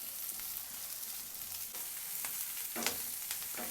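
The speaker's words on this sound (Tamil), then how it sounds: "க்யூபாக கட் பண்ணி வச்சுருக்க வெங்காயத்தையும் கேப்சிகமையும் சேம் நம்ம பன்னீர் பொரிச்ச அதே எண்ணெயிலே பொரிச்சுக்கிறேன்" Cubed onion and capsicum frying in the same oil used for paneer in a kadai, a steady bright sizzle with a few sharper stirring scrapes near the end.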